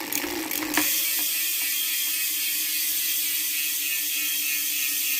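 Close, steady ratchet clicking from a factory Hope Pro 4 bicycle freewheel hub spinning with the brake caliper removed, a dense even buzz of pawl clicks after a brief louder rustle at the start, no talk.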